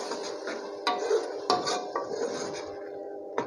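A spoon scraping and clinking against a pot while red lobia masala is stirred and fried, with several sharp metallic knocks over a soft sizzle and no talking.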